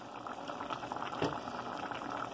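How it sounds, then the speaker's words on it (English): Salsa with onions and whole vegetables simmers and boils in a pot, a steady close bubbling and popping with one brief louder burst near the middle, no voices present. "So we let it cook this salsa"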